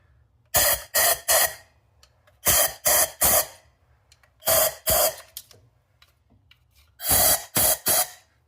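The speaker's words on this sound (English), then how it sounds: "So now I'm just gonna take a little air wand like this, guys, and then blow air down there in the cylinders" Compressed air from an air wand blasts into the spark plug wells of a 2.5L Skyactiv-G engine, in four close groups of two or three sharp, loud hissing bursts separated by quiet pauses, with no talking.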